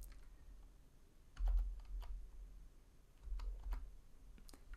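Keyboard typing close by: a few scattered light key clicks in two short bursts, quiet against a faint room background.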